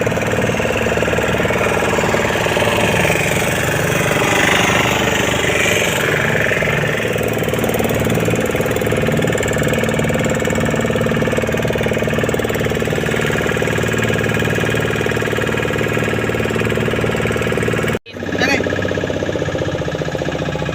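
A motorboat engine drones loud and steady on Chilika lake, a continuous mid-pitched rumble with a slight knocking vibration, briefly cutting out near the end while people talk over it.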